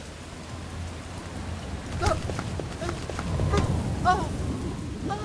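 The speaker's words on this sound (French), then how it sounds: "Et en plus, cette pluie n'arrange rien." Steady rain patters down in a continuous hiss, with a few brief higher-pitched calls or squeaks cutting through near the middle and end.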